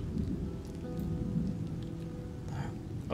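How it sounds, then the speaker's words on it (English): Spring rain ambience in the video game Total War Rome 2 makes a continuous low, rumbling downpour with a thunder-like roll underneath, steady from start to finish. "it is spring, it's raining."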